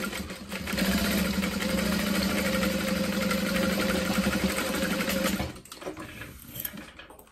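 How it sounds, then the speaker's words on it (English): A sewing machine stitches a half-inch seam on a zip-top tote bag, a steady loud mechanical whir running continuously for about five seconds before stopping, followed by faint handling noise. "So I'm gonna sew that at a half inch seam allowance"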